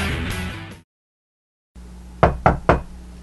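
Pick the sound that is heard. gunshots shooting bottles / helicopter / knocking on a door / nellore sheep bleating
knocking on a door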